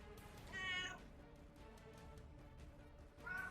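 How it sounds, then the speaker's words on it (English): A cat gives two faint meows about three seconds apart, each short and whiny, over quiet room background with no talk. "I apologize for the cat."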